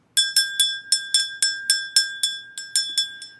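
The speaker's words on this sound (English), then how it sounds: "And you all know what this little bell is." A small hand bell, an old family heirloom, rings close and clear with about a dozen bright strikes in a steady rhythm, each note ringing briefly before the next, with no talk.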